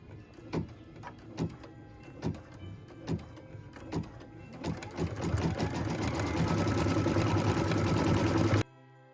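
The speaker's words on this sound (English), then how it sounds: "Machine step 12 is stitching the branches detail." An embroidery machine stitches tree branch detail on a Christmas tree skirt, first with spaced rhythmic needle thumps, then a faster continuous whirring hum that stops abruptly near the end.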